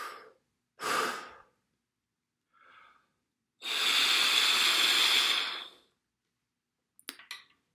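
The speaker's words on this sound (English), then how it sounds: "Breathing and blowing." Breathing and blowing exercise for French horn, close breaths: a quick inhale, a soft puff, then one long steady exhale of air with no tone, ending in small clicks.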